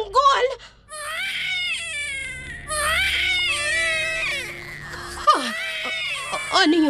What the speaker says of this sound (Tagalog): May naririnig akong mga iyak ng sanggol?